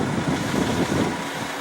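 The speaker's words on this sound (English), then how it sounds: "Some guys showed up to do some cement work over there. if you're wondering what all that noise is about." A low, rough rumble of nearby cement work carries on steadily, thick and loud, with no talking over it.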